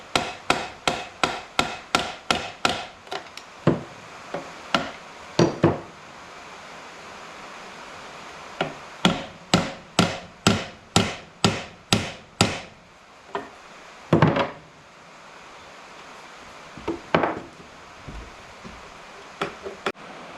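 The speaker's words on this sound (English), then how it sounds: "I've been hammering on this head of this screw." A hammer strikes the head of a screw on a stripped-down 1981 Honda ATC 70 frame, sharp metallic blows in quick rhythmic bursts of about ten, then pauses and scattered single hits, close and loud.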